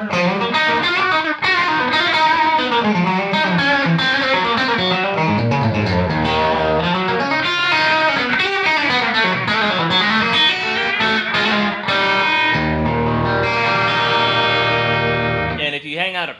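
Electric guitar through a Clockwork Echo pedal, with warbling modulated repeats and slapback echo trailing chords and single notes, played loud and continuously, ending on a sustained chord that rings out.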